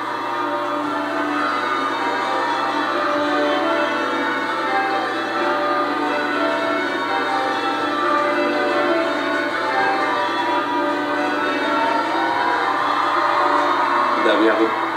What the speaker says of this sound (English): Bells of Westminster Abbey ring out as Prince William arrives for his wedding service